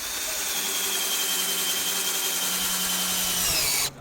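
A power drill drives a screw into wood with a close, steady high whine lasting about four seconds, then stops abruptly.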